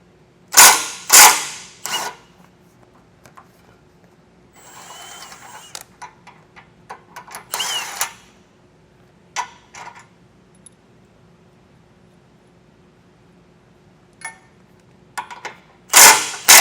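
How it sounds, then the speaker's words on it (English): Bolts holding the tow hooks on a 2024 GMC Canyon are loosened with a 19mm socket, giving several sharp, loud impact-tool bursts separated by ratchet clicks and quiet gaps, with no talking. "Now use a 19mm socket and take these tow hooks off."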